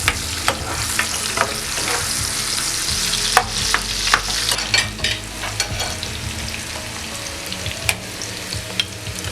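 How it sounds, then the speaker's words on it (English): Onions sizzle in hot oil left over from frying meatballs, a steady close crackle punctuated by sharp spatters and the scrape of stirring. "So I add the onions to it to fry."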